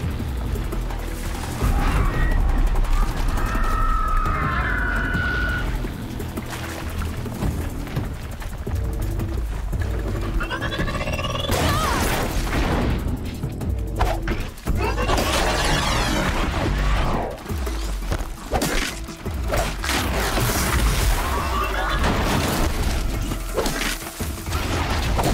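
A video-game explosion plays out as a dense, sustained roar of crashing, rumbling debris, loud and continuous with mechanical clatter and no speech.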